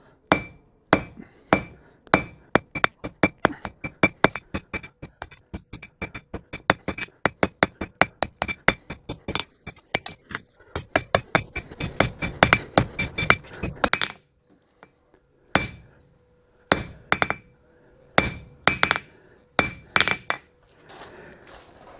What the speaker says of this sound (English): I'm forging it out much more rapidly now